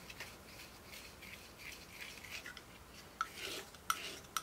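Quiet scraping and brushing as YInMn Blue paint is mixed on a palette, soft and continuous with a few sharper taps and clicks near the end.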